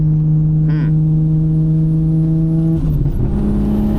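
A Nissan R32 GTR's engine drones steadily at moderate revs while driving, with a strong low hum and a brief shift in pitch near the end, no talk.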